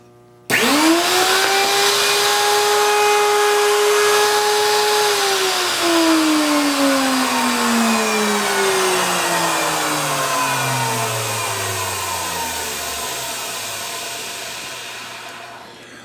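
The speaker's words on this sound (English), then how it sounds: "3/16 ball shaped end mill and the router table" A router spinning a 3/16 ball end mill in a router table starts with a loud steady motor whine, holds for several seconds, then winds down with falling pitch as it coasts to a stop.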